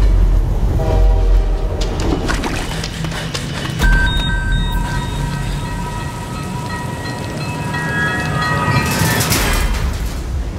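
A train pulls in at a Queensland Rail station, a loud, steady rumble with squealing brakes and tonal screeches rising over the rolling noise, close by and continuous throughout.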